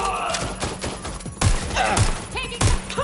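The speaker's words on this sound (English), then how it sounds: "They're shooting!" Gunfire in the Call of Duty Black Ops 4 video game, rapid bursts of shots with heavy thumping impacts over a few seconds, mixed with game sounds and a faint voice.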